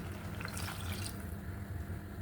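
Water pours steadily into a cooking pot, a continuous splashing gush with a muffled low rumble underneath, brief and without any voices.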